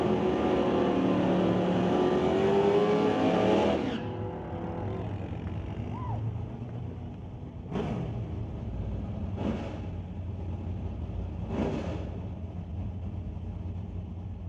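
Drag race cars launch in an ET bracket race, a loud sustained engine roar at the start that cuts off sharply, followed by several shorter bursts of engine revving further down the track over a steady rumble.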